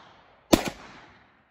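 A single sharp, loud gunshot from a Glock 20 pistol with a 4.6-inch barrel firing a 10mm Sig Sauer 180-grain full metal jacket round, heard close by, followed by a brief echoing decay and then quiet.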